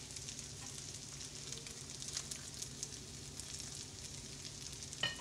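Squirrel fish frying in hot grease, a steady close sizzle with faint crackling that runs the whole time, untouched by talk.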